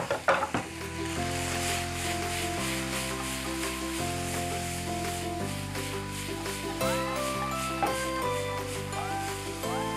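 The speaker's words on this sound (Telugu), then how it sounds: "ఆనియన్ కూడా ఇందులో వేసుకుందాం." Onion goes into a hot pan for a minced stew and sizzles steadily, with light stirring rubs and an utensil clatter at the start. Steady tonal background music plays underneath throughout, and no one talks.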